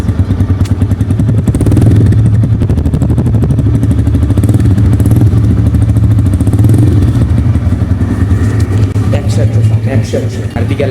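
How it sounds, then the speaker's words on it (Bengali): A TVS Raider 125 motorcycle idles just after a cold start, its single-cylinder engine close and loud with a steady, chugging rumble and faint clatter throughout; someone talks over it. "গাড়িটা একটু কোল্ড স্টার্ট দিছি রেডার বাইকের সব থেকে বড় একটা জিনিস আমার কাছে লাগে হলো এর সাউন্ড"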